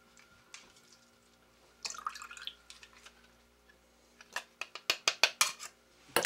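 Juice draining from an opened can of pineapple, heard as a quiet dribble and then a run of sharp, close metallic clinks and clicks from the can and utensil, growing louder toward the end.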